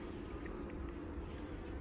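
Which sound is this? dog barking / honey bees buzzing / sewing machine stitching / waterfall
honey bees buzzing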